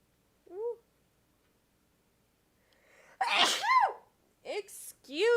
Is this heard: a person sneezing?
yes